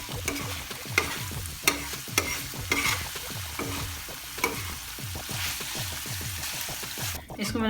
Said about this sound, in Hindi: तो इसको हमने फ्राई करना है। अब इसमें हमने मुसलसल जो है चम्मच चलाना है।